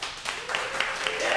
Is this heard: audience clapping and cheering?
yes